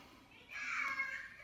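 A young child whines and fusses from another room, muffled and moderately faint, rising for about a second before fading back into quiet.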